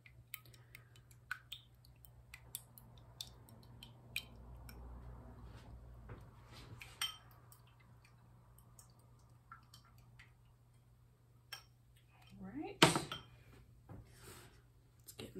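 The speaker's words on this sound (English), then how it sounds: "break up my eggs a little bit" Raw eggs are broken up in a bowl with a utensil, giving sparse, faint clinks and taps against the bowl with soft wet squishes between them. Quiet kitchen background, and a sharper knock near the end.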